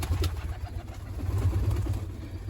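Young pigeon squabs cooing inside a pigeon loft, low soft murmuring coos repeating steadily and close, with a steady background hum throughout.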